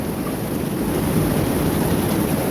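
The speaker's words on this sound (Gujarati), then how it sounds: "અરે વરસાદ તો આવવાનો જ" Rain pours down steadily outdoors during a family gathering, a dense, loud and even hiss with no pauses and no speech.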